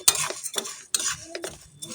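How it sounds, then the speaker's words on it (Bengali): Wheat grains being roasted in a pan, with repeated scraping and stirring strokes of a utensil against the pan and a faint sizzle, close and irregular. "এখানে আবার ঘম ভাজা হচ্ছে"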